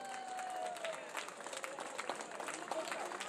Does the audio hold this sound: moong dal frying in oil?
no